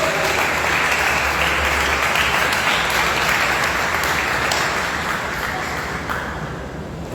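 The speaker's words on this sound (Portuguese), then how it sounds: "quem pode dar uma salva de palmas bem alegre para Jesus?" A church congregation claps joyfully for Jesus during an evening service, a loud, dense and continuous roar of many hands that fills the space and tapers slightly at the end.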